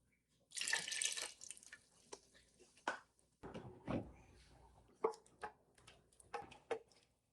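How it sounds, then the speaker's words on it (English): Tap water runs into a blender being rinsed out in a kitchen, a hissy splashing burst at first followed by intermittent trickles, sloshes and clunks, fairly quiet and close. "I'm washing the blender and using, because we have to add a lot of water into this to make it into a nice soup."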